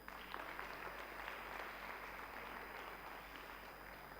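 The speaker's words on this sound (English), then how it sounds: "Please, can we give a round of applause to Dr. Abel?" An audience claps for a guest at a speaking session, with steady, dense applause throughout, fairly faint and distant.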